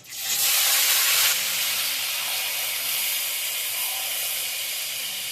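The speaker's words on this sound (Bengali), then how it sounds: "তেলে ফোড়ন দিচ্ছি একটা তেজপাতা একটা শুকনো লঙ্কা সারা জিরে আর তেল আছে" Whole spices and soya chunks hit hot oil in a tempering of bay leaf, dried chilli and cumin, giving a loud, bright sizzle that flares sharply then settles into a steady hiss, with no voices.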